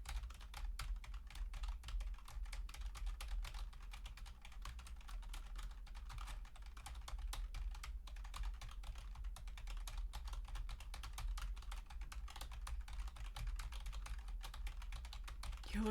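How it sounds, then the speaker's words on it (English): Steady, rapid keyboard typing runs throughout, a continuous patter of small clicks at close range with a low background hum and no talking. "She's just typing."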